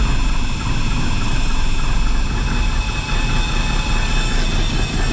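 A John Deere 7520 tractor engine runs steadily with the throttle raised, a loud, constant low rumble and mechanical drone in chilly outdoor conditions, with no pauses.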